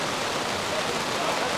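Steady rain falls at an outdoor race, a dense, even hiss that stays constant with no pauses and no voices.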